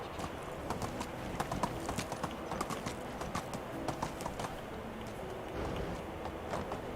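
Horse hooves clip-clop steadily in the medieval survival game Medieval Dynasty, a continuous walking rhythm at a moderate, even level with no talk over it.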